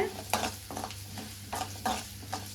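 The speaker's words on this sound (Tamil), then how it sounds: "போட்டு நல்லா ஃப்ரை பண்ணலாங்க" Urad dal and moong dal fry in oil in a pan for potato masala, a soft continuous sizzle broken by several stirring scrapes and clinks, close and without talk.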